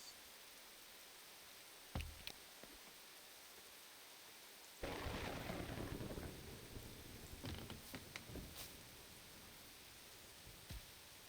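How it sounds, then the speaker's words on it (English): Steady rain and thunder fill the Nova Roma city-building game, a faint rumble early and then a louder burst of rainfall and rolling thunder that keeps going under scattered clicks. "This rain has lasted 3 seasons."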